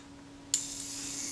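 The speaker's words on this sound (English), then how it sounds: "You can hear the self-timer running down." A Kodak Retinette type 030/9 camera's self-timer mechanism releases with a sharp metallic click and then whirs in a thin, steady buzz, close and quiet.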